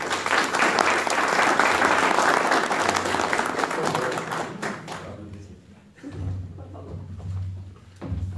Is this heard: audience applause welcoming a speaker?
yes